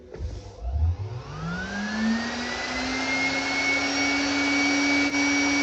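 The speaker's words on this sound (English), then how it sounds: "So I've taken the belt off the motor so we can test the motor and just see if the motor's spinning okay." A Husqvarna 6440 sewing machine motor runs free with its drive belt removed, spinning up from a brief start and settling into a steady, loud electric whine that holds an even pitch throughout.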